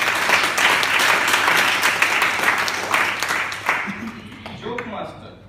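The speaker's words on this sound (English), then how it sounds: "Give a round of applause to all the students." A room full of people at a Toastmasters meeting applauds the students, steady dense clapping that tapers off, with faint voices emerging as the clapping fades.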